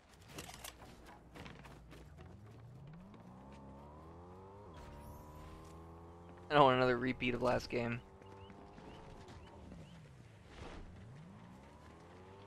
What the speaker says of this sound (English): Here comes a car.